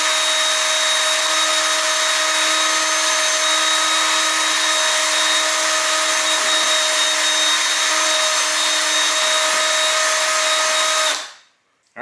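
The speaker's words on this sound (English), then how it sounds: "Next step, we're going to drill a hole right where we made the mark." A power drill bores a hole into the wooden stand of a foam-filled alien Halloween prop. It gives a steady, close, high-pitched whine for about eleven seconds, then cuts off abruptly.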